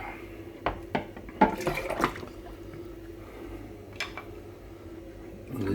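Water runs into a kitchen sink to soak three glass jars and a lid, with a low steady trickle beneath several sharp clinks and knocks of glass and handling, fairly close and quiet.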